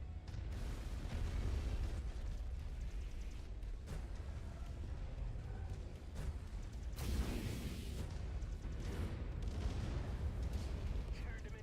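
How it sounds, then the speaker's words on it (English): Ammo explosions in the video game Mechwarrior 5: continuous booming blasts and crackling detonations layered over a dense rumbling battle din, with a sharp loud burst partway through. "Ammo explosions."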